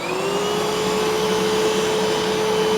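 A Eureka Boss Smartvac 4870 vacuum cleaner runs in hard floor mode with a steady, loud motor whine and airy suction roar, close and unbroken, with no voices.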